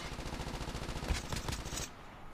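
Rapid automatic fire from a Type 25 rifle in a battle royale video game, a dense rattling burst of shots lasting nearly two seconds before cutting off, close and prominent with no talk.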